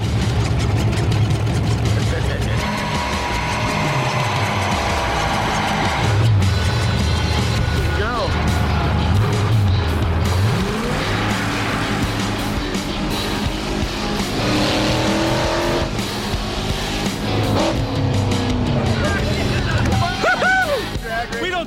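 A car heats its tires in a burnout, loud sustained engine roar with rising and falling tire squeal over a long stretch, with people talking throughout.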